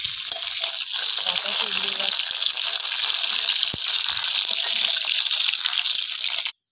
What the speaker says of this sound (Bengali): এবার ঘোল গ্লাসে ঢেলে দেবো।